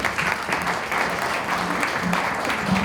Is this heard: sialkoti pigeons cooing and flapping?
no